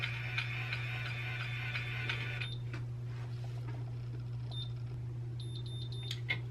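Faint, quick electronic beeps from an automatic hair curler sound in short clusters over a low steady hum and soft ticking, with no one talking.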